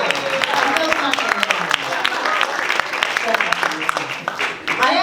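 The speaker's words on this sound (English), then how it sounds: "Round of applause for my husband." A comedy club audience applauds, with crisp individual claps from the crowd under a voice that keeps talking over it.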